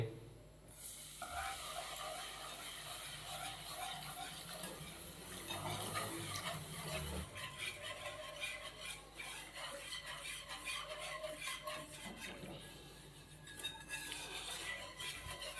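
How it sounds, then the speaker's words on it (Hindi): Milk being whisked into a butter and flour roux for white sauce, a steady scraping, stirring rattle of a whisk against the pan with a soft sizzle underneath, continuous and moderately quiet. "मैंने 1 गिलास दूध का शामिल कर दिया है और मिक्सचर की मदद से हमने इसको अच्छे तरीके से मिक्स कर दिया है"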